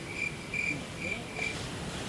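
Cricket chirping in steady short bursts, about four high-pitched trills repeating at a moderate distance over a quiet outdoor background, with no one talking.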